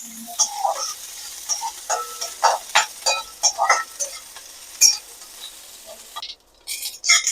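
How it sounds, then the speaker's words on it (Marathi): Bell pepper stir-fried in a spoonful of oil over high heat, with steady sizzling under repeated scraping and clinking of a spatula against the pan, close and lively. "आपल्याला शिमला मिरची पण परतून घ्यायची. गॅस मोठाच ठेवायचा म्हणजे लवकर परतली जाईल."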